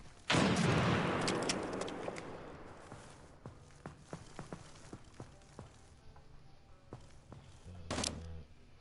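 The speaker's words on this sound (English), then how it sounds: "Tossing frag!" A thrown frag grenade explodes with a loud, close blast in a multiplayer shooter, followed by a decaying rumble, scattered footsteps and clicks, and a second burst near the end.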